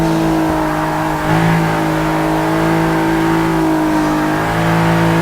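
Rear-wheel-drive drift car engine in the Forza Motorsport racing game, a loud sustained droning rev with steady tonal pitch, rising slightly as it powers through corners, with no voices.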